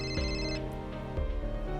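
A mobile phone rings with an incoming call, playing a bright melodic ringtone that repeats its short phrase twice, close and clear, with no talking over it.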